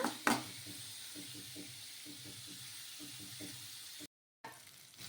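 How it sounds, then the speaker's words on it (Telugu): Raw coconut pieces frying in a pan, a soft steady sizzle with faint rhythmic scraping of stirring and a sharp clatter near the start. "పచ్చి కొబ్బరి ముక్కలు కూడా వేసుకొని కొంచెం బాగా ఫ్రై చేసుకోవాలి"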